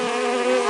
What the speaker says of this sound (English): Bees, buzzes and vibrations.